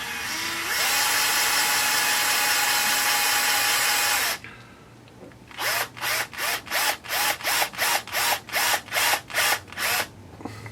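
A power drill drives a screw into a plastic part of an Axial Yeti XL RC build, first a long continuous whine, then a rapid series of short clutch-ratchet bursts as the screw tightens and the plastic splits.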